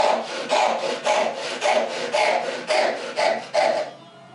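A hand saw cuts through wooden stock clamped in a vise. About eight even back-and-forth strokes rasp loud and close in a steady rhythm, then stop.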